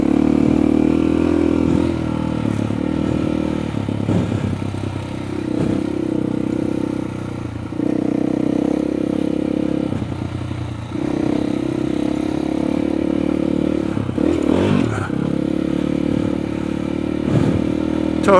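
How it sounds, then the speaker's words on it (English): An off-road motorcycle engine runs on an OHV trail, a steady mid-pitched drone with mechanical clatter and small throttle changes, close and loud throughout with no talking. "Totally timed that throttle blip wrong."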